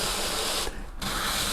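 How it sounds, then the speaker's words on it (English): Hand sanding on a homemade model oval racetrack, a close, steady rasping rub that cuts off briefly for a moment before resuming at the same level. "That's how I'm going to go about sanding this down real quick"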